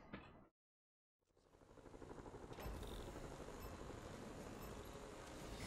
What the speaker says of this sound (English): There's the drone.